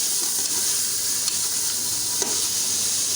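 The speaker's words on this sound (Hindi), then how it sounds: "इसको भी हम 1 से 2 मिनट के लिए अच्छे तरीके से फ्राई कर लेंगे" Ginger chicken fries steadily in a pan with a dense, continuous sizzle, broken by a couple of faint stirring clicks; close and even throughout, with no one speaking.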